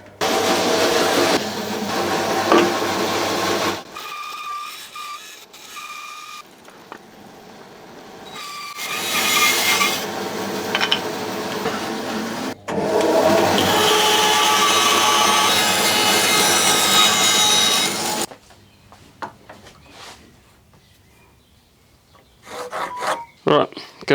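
Loud, steady rasping of a saw cutting through wood for an Art Deco sofa frame, long continuous strokes with brief pauses, ending in quieter knocks and scraping; no talk.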